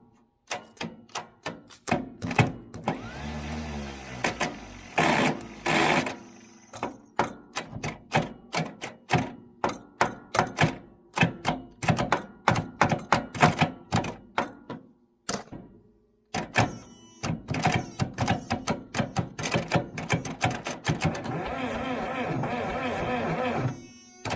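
Starter on an old International 350 diesel tractor dragging as it cranks, a loud, close, rhythmic mechanical chugging that repeats in long bursts with brief pauses, then a denser clattering run near the end.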